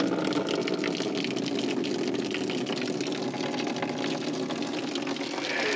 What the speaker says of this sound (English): The water will flow through this to here.